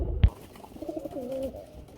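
Red Mukhi pigeons give a short, soft cooing call close by, following a brief thump at the start, with no voices.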